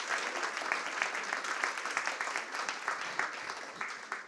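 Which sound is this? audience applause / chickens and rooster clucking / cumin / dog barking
audience applause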